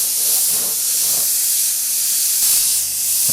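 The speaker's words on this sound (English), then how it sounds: "I'm spraying just a little bit of paint at a time too." A steady close airbrush hiss lays down light coats of paint while an edge is faded, the spray holding constant with slight swells and faint handling bumps underneath.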